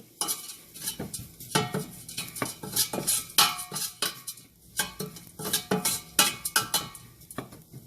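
Ingredients for an oats and sprouts soup are fried and stirred in a pan, a spoon scraping and clinking against the metal in quick, uneven strokes over a soft sizzle.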